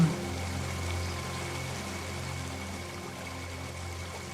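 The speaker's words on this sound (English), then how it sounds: "Small waves lap gently against the rocky shore." Gentle water lapping and trickling as small waves wash against a rocky lakeshore in the Boundary Waters, a soft continuous wash with a low steady hum beneath, no voices.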